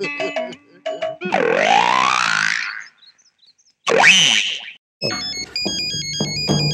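A comedic electronic phone ringtone plays loud and close, a string of bouncy, sliding synthetic tones followed by rapid beeping melody notes, with short silent gaps between bursts.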